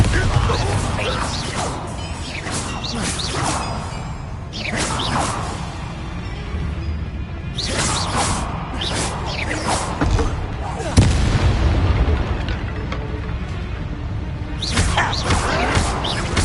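Spell combat in the Hogwarts Legacy video game, with repeated booming blasts, whooshes and crashing impacts in bursts, all under frequent talking from a player casting spells.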